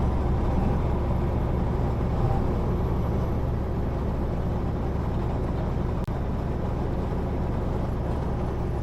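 Loud, steady truck engine drone at full throttle, heard from inside the cab on a drive through Yakima, a dense low rumble holding constant throughout with road and wind noise layered over it.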